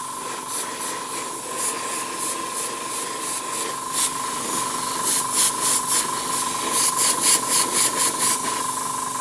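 Short repeated bursts of an aerosol spray can laying down a solid black base coat on a model landing pad stencil, hissy puffs in an irregular rhythm over a steady background hum.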